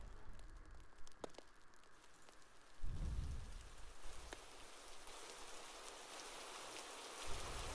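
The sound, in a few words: rain falling in the video game Hurtworld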